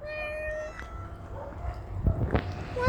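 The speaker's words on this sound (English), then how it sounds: "Oh, there's the cat again." Outdoors, a cat gives one clear, drawn-out meow at moderate distance, followed by footsteps and rustling as someone walks along.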